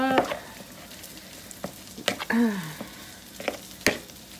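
Vegan chard burger ingredients being stirred together in a bowl, with irregular scraping and clattering strokes, a few sharper knocks, and a short hummed voice midway.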